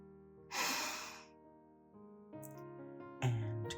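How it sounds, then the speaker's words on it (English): A person draws in a deep, audible breath during a slow guided breathing exercise. The rushing inhale comes early, and quieter breathy sounds follow over a soft sustained musical drone. "breathing in"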